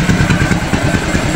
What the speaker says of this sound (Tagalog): Walang laman sa loob kaya parang basag yung tunog